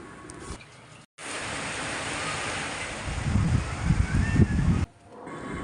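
Dried sea fish are washed by hand in salted water, making a rushing, splashing wash of water that grows into louder sloshes before stopping abruptly, with no talk.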